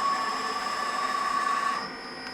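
Tree Journeyman 325 CNC milling machine in good working condition moving along its axes, giving a steady mechanical whine with sustained high tones and a constant hum that shifts slightly near the end, close and continuous, with no voices.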